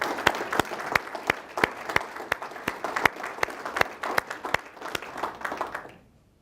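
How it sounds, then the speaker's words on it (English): An audience at a city address gives a steady round of applause for city employees, with sharp individual claps standing out through the sustained clapping, which stops abruptly at the end. "Please join me in thanking our city employees for their exceptional performance with a well-deserved round"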